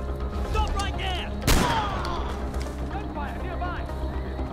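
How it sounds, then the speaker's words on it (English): Gunfire in Far Cry 4, a sharp loud burst of shots partway through, layered over constant game combat noise and shouted voices. "Gunfire nearby!"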